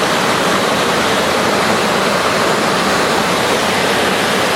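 Steady, loud rush of water pouring in a waterfall over a Foursevens Preon 2 flashlight during a waterproof test, a dense continuous roar with no pauses.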